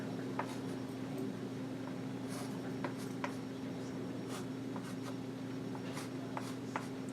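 A pen or marker scratches out a force-field diagram of a circle during a physics lecture, giving faint, intermittent scribbling strokes over a steady low room hum. No speech is heard.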